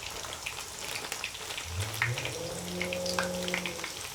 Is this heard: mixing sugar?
no